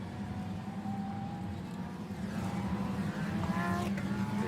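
Lamborghini Super Trofeo race cars circulate the Valencia circuit in a European race, a loud, sustained engine roar that swells slightly as the cars come nearer, with no voices.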